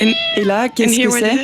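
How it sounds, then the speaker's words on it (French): A domestic cat meows twice, close and clear, with drawn-out wavering cries separated by a short pause, while a person speaks French over it. "C'est notre chat."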